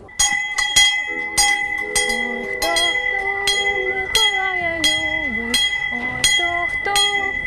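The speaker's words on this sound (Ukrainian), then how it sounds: "що за дзвін ти надибав?" Repeated bell strikes ring out with long, shimmering tones, several clangs overlapping in an uneven rhythm, with people talking quietly underneath.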